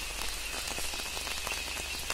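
Steady heavy rain with wind over a cardamom plantation in Idukki district, Kerala, a thick unbroken wash of drops drumming on nearby surfaces, loud and even throughout.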